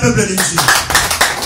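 A church congregation at worship claps hands in a steady, rhythmic beat, loud and close, while a voice speaks over the clapping.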